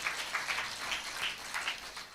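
A congregation at a Sunday worship service claps in uneven bursts of rapid hand claps for just over two seconds, moderately loud and fairly close, with no voices standing out.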